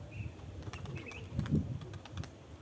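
A female pigeon lands amid brief, faint wing flaps and soft fluttering. Quiet outdoor background noise and a few distant chirps are also present.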